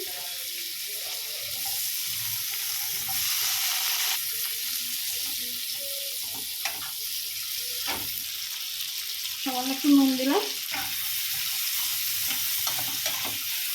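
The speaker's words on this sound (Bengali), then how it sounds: "এদিকে আমি ক্যাপসিকাম আর টমেটোটা ভাজবো" Capsicum and tomato frying in butter for Kashmiri aloo dum, a continuous close sizzle broken by scraping spatula strokes and light clinks, with a brief spoken remark in the middle.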